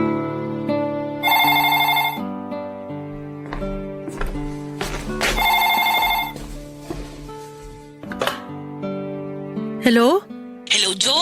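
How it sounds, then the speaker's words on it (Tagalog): A telephone rings with an incoming call in repeated bursts of bright electronic tone, loud and close, set against background music with a few short sound-effect sweeps near the end. "nagulat na lamang ako nung siya na mismo ang tumawag sa akin, Papa Dudut."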